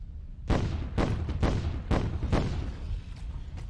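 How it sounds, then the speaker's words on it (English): Contagious exploding spell detonations in the Myth II: Soulblighter fantasy strategy game, a chain of about seven loud booming blasts in quick succession, some overlapping, with no talking. "time for our first use of contagious exploding"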